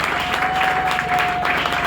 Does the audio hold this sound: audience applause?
yes